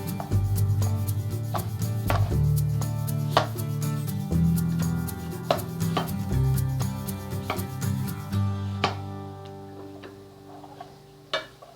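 A knife slicing steadily through potatoes on a board, quick crisp cuts repeating in a loose rhythm, with faint music underneath.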